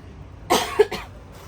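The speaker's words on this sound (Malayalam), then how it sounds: "ചുമ ഭയങ്കര" A single person coughs twice in quick succession, close and fairly loud, amid otherwise quiet surroundings.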